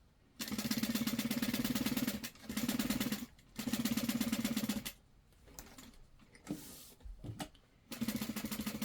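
A sewing machine stitches a LindSport mini backpack in loud, fast mechanical bursts of a few seconds each, pausing between runs with quieter handling noises before starting again.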